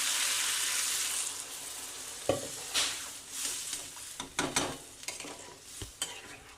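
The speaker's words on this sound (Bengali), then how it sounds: "এবার আমি জল দিয়ে দিচ্ছি" Water is poured into a pan of frying potato and periwinkle meat curry, a loud sizzle that fades into bubbling, followed by irregular stirring scrapes and knocks of a spoon, close and without speech.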